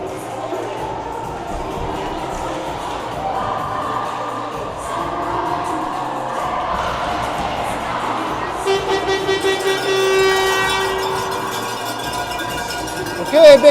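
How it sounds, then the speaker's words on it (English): A home crowd cheers loudly for the Chaos at a ringette game against the East Coast Selects, a sustained roar with horn toots and rattling noisemakers over it. "big cheer there for the Chaos"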